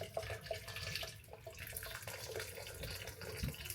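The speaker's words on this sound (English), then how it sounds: "This is hot water going in up to the minimum level" Hot water runs steadily into a pressure cooker, filling it to the minimum level over a little salt. The flow is a continuous, close splashing rush with no voices.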